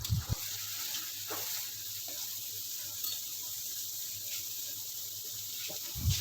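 Chopped onions and green chilies sizzle in hot cooking oil, a soft steady crackle with a few louder spits and clatters at the start and end.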